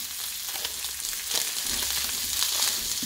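Burger meat sizzles and fries in a pan, a steady, close crackling hiss with occasional louder pops and spatters, heard alone with no talking.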